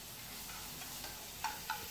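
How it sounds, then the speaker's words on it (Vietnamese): Mong worms, a highland Vietnamese specialty, fry in oil with a steady, soft sizzle and hiss and a couple of faint crackles, with no voices. "Đây, chúng ta cho một ít dầu và chiên nó lên."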